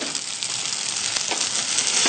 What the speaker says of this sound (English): you want to hear that sizzle every time you add that addition of broth